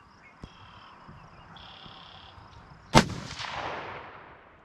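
A single loud crack from a Ruger American Gen 2 rifle chambered in 6.5 Grendel, followed by a long ringing decay, with a faint click just before and a quiet outdoor background.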